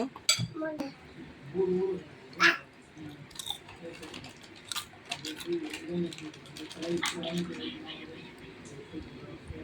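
A spoon scrapes and clinks irregularly inside a silver pot while stirring sponge cake batter, with light metallic taps close by and a voice speaking underneath.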